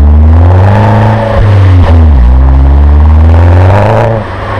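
An Opel Corsa OPC with a Remus exhaust idles and revs up close, giving a loud, steady engine drone with a few brief dips and rises in pitch.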